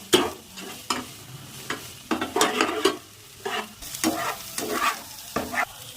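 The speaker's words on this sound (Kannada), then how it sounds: "ಶುಂಠಿ ಬೆಳ್ಳುಳ್ಳಿ ಮತ್ತೆ ಹಸಿ ವಾಸನೆ ಹೋಗೋದನ್ನ ಹುರ್ಕೊಳ್ಳಿ ನೀವು" Ginger and garlic frying for noodles, crackling sizzle in a pan broken by repeated bursts of stirring and scraping in an uneven rhythm, close and alone without talk.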